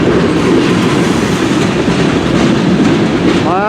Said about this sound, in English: It's CN M384 northbound train